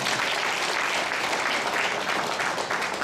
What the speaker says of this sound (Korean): 동의하시면 박수 한번 보내주시기 바랍니다.